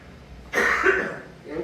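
A preacher gives one sharp, close cough during a Sunday morning church service. The cough is a quick burst that trails off in a rough exhale, then a faint sound follows.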